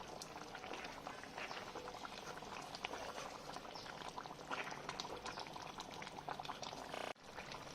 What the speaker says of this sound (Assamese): প্ৰায় 2 মিনিট সময় মই গ্ৰেভিখিনি উতলিবৰ কাৰণে দিলোঁ।